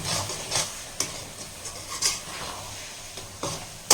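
Grated coconut sautéing in a pan for coconut laddu, with a soft continuous sizzle broken by repeated scraping stirs of a spoon against the pan at irregular intervals, close and moderately loud.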